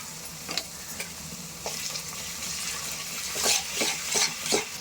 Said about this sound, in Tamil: இப்போ வெங்காயம் போட்டுக்கலாம். இஞ்சி பூண்டு போட்டுக்கலாங்க.